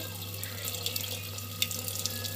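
Water pours steadily from a tap into a pot for sambar, a continuous splashing stream with a low hum beneath and no voices.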